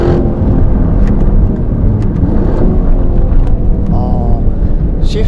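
A 2025 Aston Martin Vantage drives a winding road, its engine droning loud and steady from inside the cabin with a whirring rear differential beneath, engine pitch shifting slightly as it goes.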